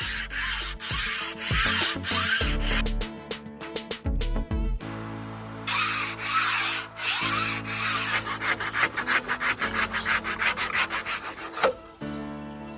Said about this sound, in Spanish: con ayuda del cúter y la hoja de sierra, es cortar los filos que llevan lateralmente estas láminas